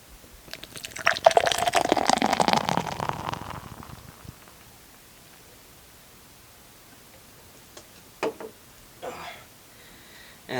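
Hazy IPA beer is poured hard into a glass, a loud frothy splash and fizz that swells for a few seconds and then fades, followed by a few faint clinks and small sounds.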